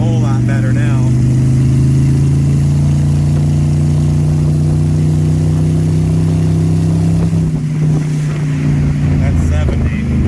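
A car cruises at highway speed after an ECU setup and a Holley 554-128 install, giving a loud, steady engine drone and road rumble that holds constant, with a small shift late on.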